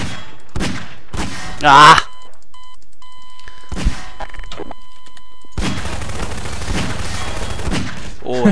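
Gunfire in a Garry's Mod horror map game, a few sharp loud bursts and electronic beeps separated by quiet gaps, with a player shouting briefly.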